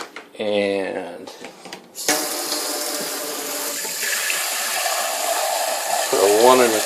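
Water runs from a tap into a measuring cup for a bacon curing brine of salt and sugar, a steady splashing stream of a few seconds, with short bursts of talk before and after.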